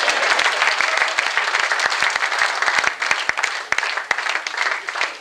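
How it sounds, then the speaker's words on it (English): An audience at a live talk applauds for a woman named Laura, a continuous wash of many hands clapping, loud and even for the whole stretch, with crisp individual claps popping out. "Clap it up for Laura."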